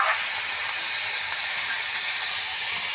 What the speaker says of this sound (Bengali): আলুগুলো আগে ভেজে নিচ্ছি